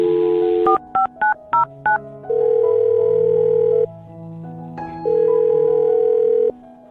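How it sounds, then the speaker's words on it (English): A landline-style telephone dials a number: a dial tone, then a quick run of about five distinct DTMF keypad beeps, followed by long steady ringback tones with pauses, loud and close with no talking. "I'm going to dial her phone number right now"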